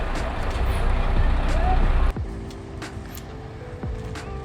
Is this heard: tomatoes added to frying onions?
no